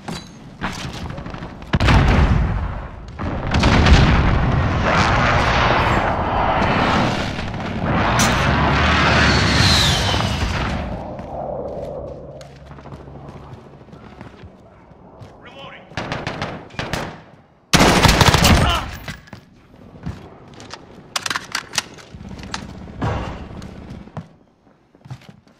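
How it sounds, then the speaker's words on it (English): Airstrike explosions and bursts of gunfire in a Call of Duty match, with heavy booms and rapid shots dense in the first ten seconds, then scattered loud blasts and shots, while game announcer voices speak over the action. "Enemy precision airstrike. Take cover."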